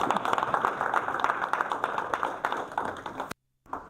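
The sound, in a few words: audience applause for the speaker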